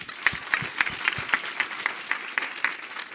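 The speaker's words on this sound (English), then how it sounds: "Can we give them a round of applause?" An audience at a campus event in Soweto claps in an even, rhythmic beat, about four sharp claps per second, each one distinct and fairly close.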